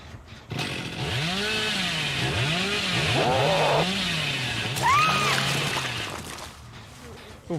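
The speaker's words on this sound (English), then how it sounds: "Chainsaw sprint, okay." Chainsaw sprint in the Dead by Daylight video game: a loud, sustained revving engine drone with pitch swells and surges, running for several seconds under overlapping talk from players.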